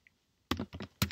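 Quick keystrokes on a computer keyboard clack in two short bursts, close and clear in a quiet room, with no talking.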